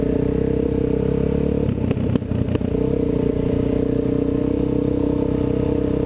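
A Husaberg 450 dirt bike rides just ahead during a group trail ride, its engine a steady, loud drone throughout with a brief choppy clatter midway as the throttle shifts.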